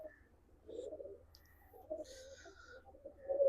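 Pigeons at a Punjabi loft coo softly in low, throaty bursts, a few calls spread across a quiet background with faint chirps, fairly close.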